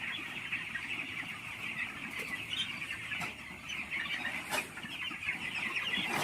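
Chickens on a village poultry farm cluck faintly and steadily, a soft distant flock murmur with a few sharper calls over a quiet background.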